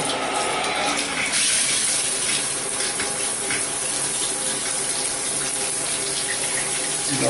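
Water runs and splashes steadily over a TaoTronics LED camping lantern in a windowless bathroom, a continuous faucet-like gush lasting throughout with no voices.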